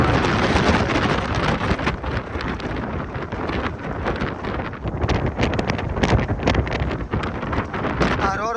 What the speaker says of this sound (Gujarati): અને પવન અહીંયા ફૂલ છે